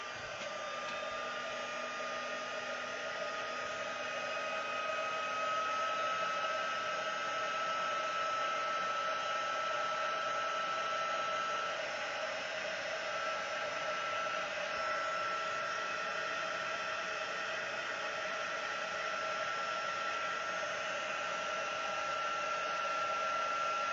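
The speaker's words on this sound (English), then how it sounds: "I'm just going to heat set that embossing powder now." A heat gun blows steadily and loudly for the whole stretch to heat-set embossing powder on a handmade card, an even hiss with no pauses.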